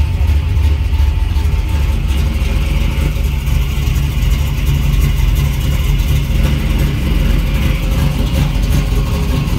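A 1966 Chevrolet Nova SS with a stroker V8 revs loudly and close by, a deep, steady engine roar that holds throughout without a pause or any talk over it.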